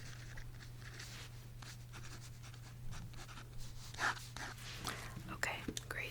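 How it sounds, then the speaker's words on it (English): Pen scratching on paper during an at-home makeup consultation roleplay, soft close strokes and taps with light whispering over a steady low hum. "I'm just going to write out for the skincare."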